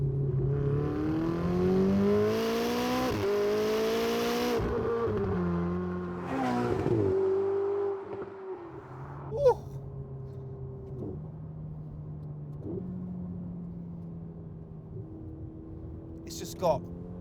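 A Ferrari 488 GTB supercar driving on a public road, its engine loud and close as it revs and accelerates through several rising pulls. It then settles into a quieter, steady cruise with a couple of brief sharp clicks.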